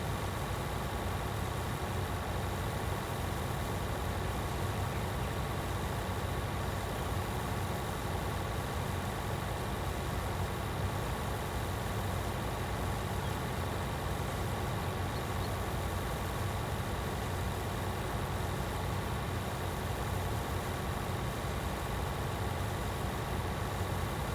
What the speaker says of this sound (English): mighty big tractor for that trailer, isn't it?